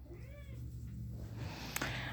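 A seven-week-old Snow Bengal kitten gives a short, faint high meow up close, followed by soft rustling and a brief scratchy handling sound in a quiet room.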